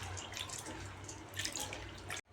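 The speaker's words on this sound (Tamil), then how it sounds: "பருப்பை ஒரு 3-4 தடவை நல்லா சுத்தமாக கழுவி எடுத்துக்கலாம்" Lentils are rinsed in water in a bowl before going into an Andhra-style tomato dal. Close sloshing and trickling water runs steadily for about two seconds, then cuts off abruptly.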